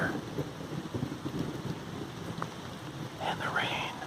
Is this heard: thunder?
yes